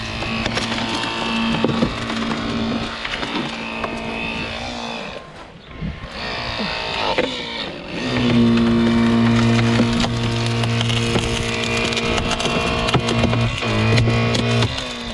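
A Hurst Jaws of Life hydraulic spreader forces a car door outward, giving steady loud mechanical whining and droning with creaking, crunching metal and a short lull midway before the tool pushes harder again, close up.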